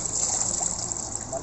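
Small trickling splashes of water in a basin as a puppy gets its first bath, close and steady, under a faint background hiss with no clear talk.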